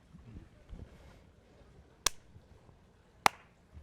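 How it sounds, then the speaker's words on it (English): Two crisp, close hand claps struck on a microphone, spaced about a second apart, loud against a quiet room with a few soft murmurs before them. "Now you should clap on mine."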